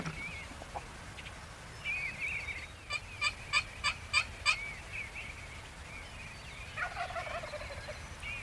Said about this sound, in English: They're just kind of gobbling when they want to.